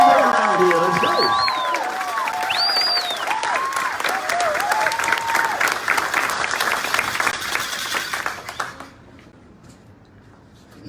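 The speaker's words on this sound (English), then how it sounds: "Come on, let's give a big round of applause." Crowd applause and cheering at a United Way sweepstakes drawing for a 2019 Chevy Trax, loud dense clapping with whoops and whistles, fading out near the end.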